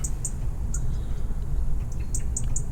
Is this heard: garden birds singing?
yes